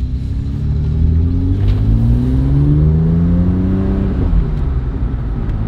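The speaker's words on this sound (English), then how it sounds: "we're gonna go on a quick little drive, make sure everything's okay" A BMW E82 135i with the N54 engine and freshly fitted turbos drives and accelerates, its loud engine drone rising through the revs with a couple of gear changes, heard up close from inside the car without speech.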